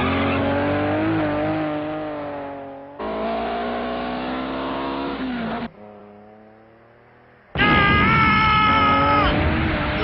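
A cartoon car engine in Dragon Ball Z starts and revs, rising whines cut into distinct bursts, then pulls away loudly with a final high revving surge.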